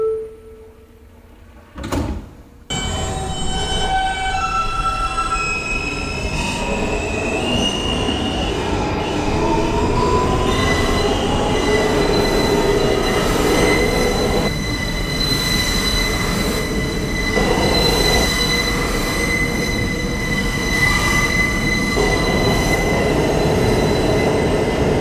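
A Brooklyn-bound F local subway train gets underway after a brief door thump, its wheels squealing in high sustained tones over a loud steady rumble of running railcars that lasts throughout.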